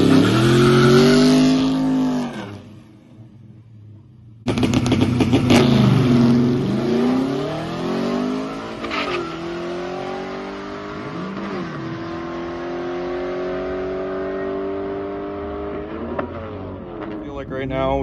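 A 1957 Chevy engine, running poorly and short of RPM, revs hard and repeatedly nearby. Its pitch rises and falls through several sweeps, with a brief drop in loudness partway through and a person talking over it.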